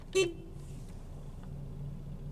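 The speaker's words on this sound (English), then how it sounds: "We've also got horn buttons." A single short toot from the horn of a 2004 Suzuki Forenza S, clear and brief, followed by a quiet idling hum.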